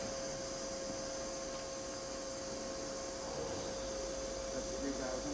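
A Milltronics VM16 milling machine's BT40 spindle spins up past 1500 RPM, giving a steady, fairly quiet high whine with a constant pitched tone and a faint airy hiss underneath.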